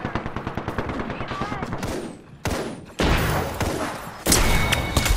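Rapid automatic gunfire in the Apex Legends battle royale game, dense bursts of shots rattling close and loud with sharp breaks between volleys.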